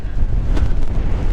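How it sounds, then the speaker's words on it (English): Strong gusty wind buffeting the microphone on the north Cornwall coast path near Port Quinn, a loud continuous roar with rumbling low gusts and no voices. "today into the wind. Oh, we're sort of pretty gusty now."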